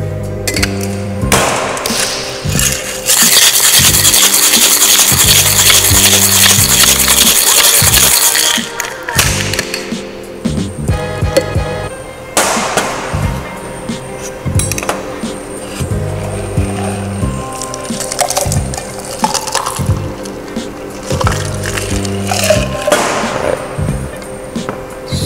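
Two Mai Tai cocktails are shaken hard in a cocktail shaker, making loud, sustained rhythmic rattling that keeps going for a long stretch.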